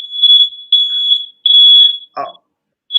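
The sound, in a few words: fire alarm going off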